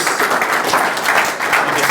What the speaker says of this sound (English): if we could give Steve a massive round of applause, please.